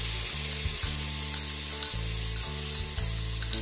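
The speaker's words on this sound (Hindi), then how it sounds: "पालक के पेस्ट को डालेंगे।" Peas sizzle in a pan as spinach paste goes in, a steady loud frying hiss broken by rhythmic stirring scrapes, close up with no voices.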